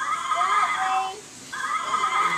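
A toy horse giving off a high, wavering neigh, two whinnying calls separated by a brief dip, fairly close and clear.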